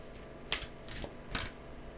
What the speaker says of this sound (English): forgive me while I give these a little more of a shuffle than I ordinarily do